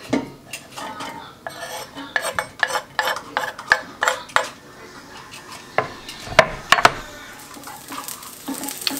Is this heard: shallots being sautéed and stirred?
yes